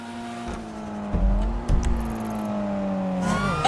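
Car engine revving in a video game police chase, a steady loud engine drone with rising pitch and brief roaring surges, plus a high whine near the middle and a squeal at the end.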